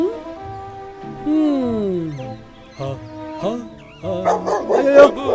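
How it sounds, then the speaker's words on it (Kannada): Dogs bark and yip at the roadside as people pass through a village, sharp calls breaking out between rising and falling voices and talk. "ಅಯ್ಯೋ ನಾಯಿಗಳಿದಾವೆ, ಸುಮ್ಮನೆ ಹೆದರ್ಕೋಬೇಡ"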